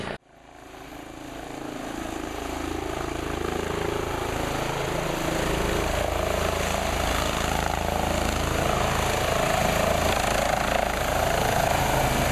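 A PHI medical evacuation helicopter's engine and rotor spin up and hold a loud, continuous droning roar close by at a wilderness first aid training landing zone, with no voices over it.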